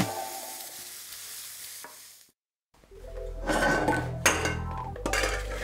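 Vegetables stir-fry over very high heat in a frying pan used earlier for pork chops, with loud sizzling, clinks and scrapes of a utensil against the pan, interrupted by a brief silence before frying resumes more intensely.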